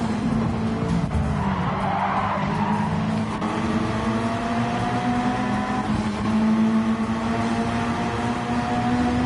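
Several race cars skid with long tire squeals after late braking during a Gran Turismo 7 online race, with steady engine drone and overlapping screeches throughout.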